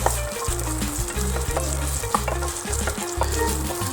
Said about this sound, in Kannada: ಇವಾಗ ಆಲೂನ ಫ್ರೈ ಮಾಡ್ಕೊಳ್ಳೋಣ್ರಿ